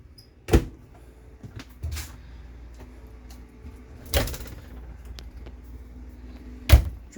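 Hollow thuds and knocks of cabinet drawers sliding open and shut inside a 2021 Thor Outlaw RV, four distinct bumps spaced a couple of seconds apart over a quiet room.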